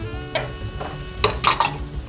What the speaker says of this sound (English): So after 3 minutes, we can add in the bacon and the chorizo